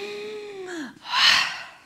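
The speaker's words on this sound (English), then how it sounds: "In through the nose, more of a sniff." A single audible breath in through the nose, a quick airy sniff following a brief hummed vocal tone, heard close up and alone during a breathing exercise.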